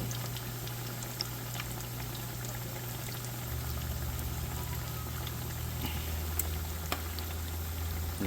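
Fat crackers frying in hot oil: a steady, even bubbling hiss that stays constant throughout, with a low hum running underneath and no voices.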